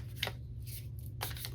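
Quiet riffles of a deck being shuffled, two brief crisp bursts of cards flicking together over a low steady hum.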